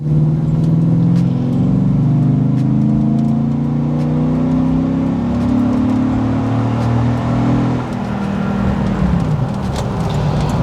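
A loud, close tow truck engine revving upward in a long steady pull, its pitch climbing, then dropping briefly before continuing with a rougher tone.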